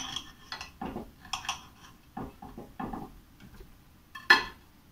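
Knife cutting grapefruit on a board for a blender, a series of short irregular chopping knocks and clatters with quiet gaps between them, close and fairly faint.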